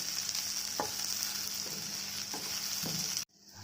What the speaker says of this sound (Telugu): బాగా వేయించుకోవాలి. దాదాపు వేగిపోయింది. చింతపండు వేసుకున్నాము.